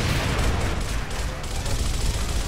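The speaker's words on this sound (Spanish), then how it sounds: "puro balazo, puro balazo, puro balazo, puro balazo, puro balazo" Sustained gunfire in the video game Gears of War, a dense, loud, continuous rattle of rapid shots filling the whole stretch with no pauses.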